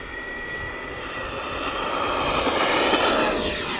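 FMS F-16C 70mm RC fighter jet taking off in cold air, a loud, close electric ducted-fan whine rising in pitch and volume as it climbs away, with a sweeping shift in tone near the end.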